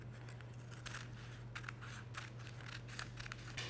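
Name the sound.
scissors cutting parchment paper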